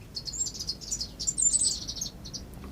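Small finches and waxbills chirp in a backyard aviary, a lively cluster of high, thin tweets overlapping in quick bursts, close and fairly bright over a low background hum.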